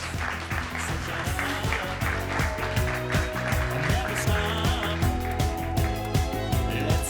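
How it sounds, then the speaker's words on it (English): Audience clapping at a conference session on omnichannel retail runs under loud, rhythmic walk-on music with a steady beat, the applause partly masked by the music. "Please give them a round of applause."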